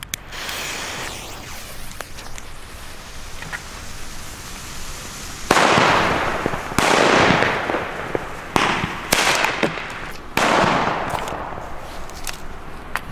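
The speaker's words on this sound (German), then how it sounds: "Das ist Feuerwerk, das muss knallen." New Year's Eve firecrackers and firecracker chains go off outdoors, a series of loud sharp bangs with crackling bursts and hissing fizz between them, some rapid, some spaced apart.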